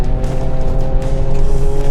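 Ford Ranger Raptor 2022 twin-turbo V6 under anti-lag gives a loud, close, sustained engine roar with a steady harmonic drone and slight pulsing, heard alone.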